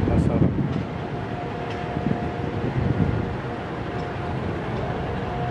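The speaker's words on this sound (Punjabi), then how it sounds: "ਫੈਸਲਾਬਾਦ ਰੇਲਵੇ ਸਟੇਸ਼ਨ ਤੋਂ ਪਾਕਿਸਤਾਨ ਐਕਸਪ੍ਰੈਸ 46 ਟਾਊਨ ਡਿਪਾਰਚਰ ਕਰਨ ਲੱਗੀ ਆ" An Alco PHA-20 locomotive leading the Pakistan Express departs Faisalabad railway station with a low, rumbling diesel drone and a steady tonal hum, fairly close and continuous, with some wind noise over it.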